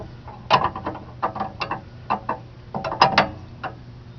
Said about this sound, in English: I'm going to put my wrench on.